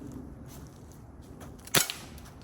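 A single sharp crack from an Umarex airsoft Glock 17 Gen 4 pistol, its pellet striking a tree outdoors, stands out near the end above a low, steady background hum, with no talking.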